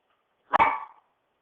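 A single sharp, high yip of a small dog, brief and close, standing alone in silence.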